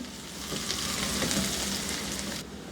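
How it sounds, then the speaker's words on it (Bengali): A medium onion sizzling in hot oil in a wok over medium-high heat, giving a dense, continuous frying hiss up close that eases slightly near the end. "ওর মধ্যে একটা মাঝারি সাইজের পেঁয়াজ একটু ভেজে নিব"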